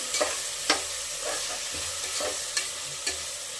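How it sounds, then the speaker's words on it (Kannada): Tomatoes frying in a pan give a constant hissing sizzle, broken by a handful of crisp spatula scrapes at irregular intervals. "ಈಗ ಫ್ರೈ ಆಗ್ತಾ ಇದೆ ಟೊಮೆಟೊ"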